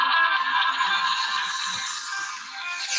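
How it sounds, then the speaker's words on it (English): An incoming spam call sets off a mobile phone ringtone: a close, steady, bright electronic tone that rings continuously for several seconds. "Who in the world is calling me?"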